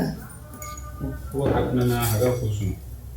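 Metal clanks and scrapes as a pressure cooker lid is handled and closed, a short rattling burst close by.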